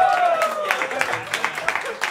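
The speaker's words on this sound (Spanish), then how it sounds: "fuerte el aplauso para Drag Phoenix" Scattered audience clapping greets drag performer Drag Phoenix at a 2016 Pride lip-sync party, sharp separate claps rising under a talking voice and loud crowd noise.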